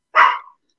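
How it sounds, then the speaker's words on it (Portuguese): A single short, loud dog bark, close and sharp with a quick fading tail, alone in silence. "O gajo a ladrar dá-me, arrebenta-me com os tímpanos."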